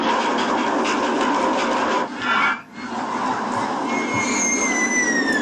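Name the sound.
roller coaster train running in video game OpenRCT2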